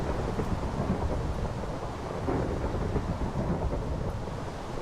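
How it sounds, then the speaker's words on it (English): Rolling thunder from a lightning strike in Minecraft, a steady broadband rumble that fills the whole stretch at an even, fairly loud level with no pause and no voices. "That was a lightning strike right over there."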